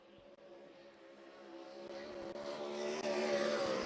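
A 410 sprint car, the Indy Race Parts No. 71, roars through a qualifying lap at the Front Row Challenge, its engine a steady loud drone that builds in volume as it draws nearer.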